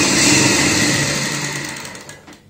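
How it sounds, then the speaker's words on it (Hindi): A sewing machine runs a fast, continuous stitch along the side seam of a lace-sleeved kurti, loud and close, then trails off and stops near the end. "अब हम सिलाई करेंगे साइड की"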